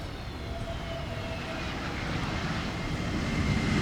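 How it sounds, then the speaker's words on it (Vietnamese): Sun PhuQuoc Airways Airbus A321 landing, a steady broadband jet roar with a faint high whine that swells slightly louder toward the end, heard from some distance with no talking. "chúng ta sẽ tới một chiếc Airbus A321 của hãng hàng không Sun Phú Quốc Airways và chiếc máy bay cũng đang nhanh chóng hạ cánh"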